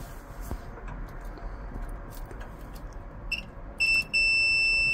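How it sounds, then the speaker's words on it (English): A multimeter's continuity beep sounds while testing the wiring of a Honeywell S Plan hot water cylinder thermostat, a loud steady electronic tone starting near the end after quiet ticks and handling noise. "And we've got that beep, so now we know our cylinder stat is working."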